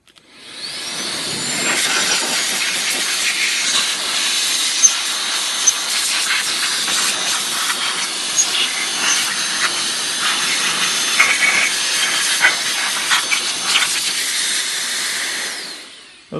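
Compressed air blows steadily through a Janome M7 sewing machine during deep cleaning, a loud continuous hiss lasting about sixteen seconds with small bursts and flutters, alone without talk.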